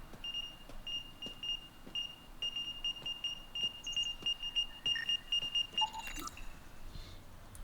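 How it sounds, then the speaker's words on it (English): A proximity alarm warning of nearby mines in the video game Mass Effect Andromeda gives off a steady train of short, high, evenly spaced electronic beeps, fairly quiet over a low background hum. "So I guess this is some sort of proximity alarm."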